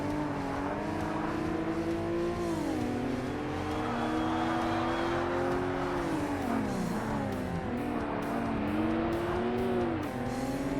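Racing car engines in Forza Motorsport on the 2005 Xbox, including a Skyline, drone loudly and continuously at close range, the pitch rising and falling through gear changes, with brief tire squeal and no talk.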